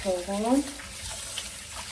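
Cold tap water runs steadily under a woman's brief speech at the start, a soft continuous rush close by that carries on alone afterward.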